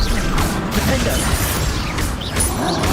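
Defender-style spell combat in Hogwarts Legacy: clanking, crashing mechanical impacts and whooshing sweeps layered over a steady, loud backdrop of game battle noise.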